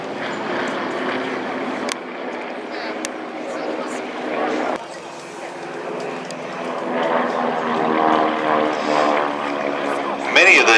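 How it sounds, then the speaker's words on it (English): A Beech 18 piston propeller aircraft at the Flying Legends air show, a sustained droning engine roar that swells louder toward the end, with a voice talking over it. "An aircraft down there as well, Beech 18"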